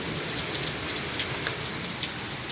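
Steady rain falls on a stormy night, a dense, even hiss with scattered brighter drop patters, close and continuous throughout, with no voices.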